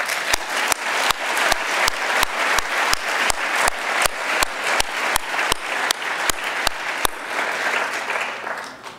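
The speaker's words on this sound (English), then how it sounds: "let me ask for a round of applause for the committee members, the jury, and Marjolein and Hans." Applause at a 2015 poster prize ceremony, honoring the committee and jury, rolls as a sustained crowd clapping with loud, regular claps standing out up front before it thins and fades near the end.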